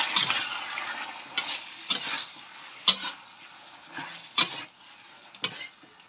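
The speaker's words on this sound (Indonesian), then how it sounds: "Lalu kita aduk hingga rata." Beef rendang with boiled tetelan (meat trimmings) stirred in a pot: repeated scraping strokes of a spoon or spatula against metal come in irregular bursts over a soft background sizzle, close and moderately loud, with no talk.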